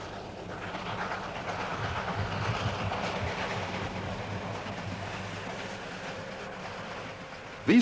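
A steam train in Poland in the mid-1980s rumbles steadily along with rhythmic clatter and a hissing wash, continuous and fairly loud, with no voices.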